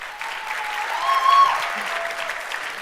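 An audience at a university science-communication contest final applauds with steady, dense clapping while a voice speaks faintly over it.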